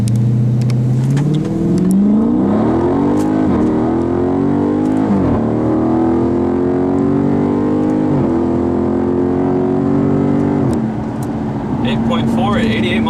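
A Dodge Charger Scat Pack with an 8-speed automatic accelerates hard, its engine note climbing and dropping through several quick upshifts, loud and close throughout.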